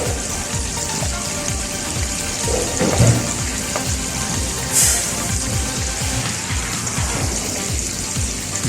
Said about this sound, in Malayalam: ഒരു ബ്രൗൺ കളർ ആവുന്നത് വരെ ഇതിനെ ഫ്രൈ ആക്കി എടുക്കണം